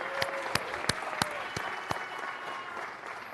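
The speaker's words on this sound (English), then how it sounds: "Can we have a round of applause for the champs?" Applause at a city council meeting honoring the 1970 national championship college baseball team: a quiet, distant patter with a handful of sharper individual claps standing out at a steady pace.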